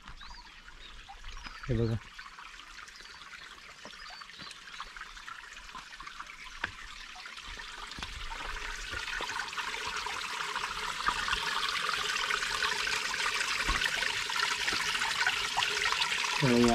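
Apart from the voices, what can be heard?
spring water flowing on a hillside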